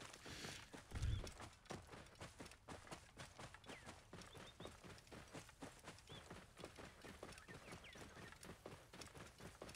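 Horse hooves clip-clop in a steady, quick rhythm as a rider travels on horseback in Assassin's Creed Origins, with continuous footfalls running close and moderately loud for the whole stretch.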